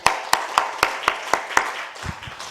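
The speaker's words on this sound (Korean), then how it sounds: "하나님께 영광의 박수" A congregation at a revival meeting at Bethesda Prayer House in Gokseong claps in unison, with about seven sharp, evenly spaced beats that then soften into a brief scatter of fading claps.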